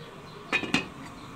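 A lid is set down over a pan of egg pudding covered in foil, giving two quick metallic clinks close by in an otherwise quiet kitchen.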